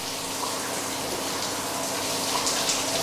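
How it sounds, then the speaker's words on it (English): Running water gushes steadily over a silver-plated foil during rinsing, a close, even, broadband splashing wash without voices. "The residues on the back are removed with a sponge before the foil is rinsed again."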